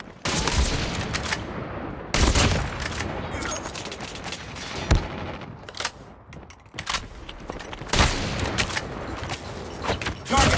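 Sniper fire and other gunshots from the mobile shooter Call of Duty Mobile, with repeated loud cracks spread across a busy battle mix and occasional booms, some shots sharp and close, others softer in the background.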